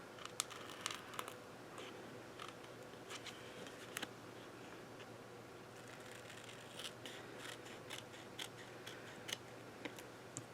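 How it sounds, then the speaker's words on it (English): Scissors snip a paper piece off a handmade collage bookmark, a series of small, quiet, crisp cutting clicks scattered irregularly over a faint background hum. "I'm just going to cut that piece off."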